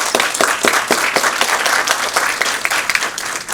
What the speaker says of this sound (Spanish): pido por favor fuertes palmas a los voluntarios